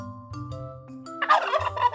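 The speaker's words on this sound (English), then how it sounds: "Do you know what sound a turkey makes?" Turkey gobbles in a quick, rattling burst, close and clear, preceded by a few low clucks.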